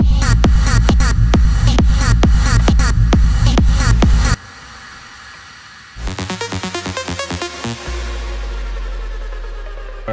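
EDM drop with an effected vocal chop: a loud, dense pounding section with rhythmic hits, a sudden drop to a quieter filtered gap, then a stuttering buildup of repeated bursts that ends in a sustained synth tone.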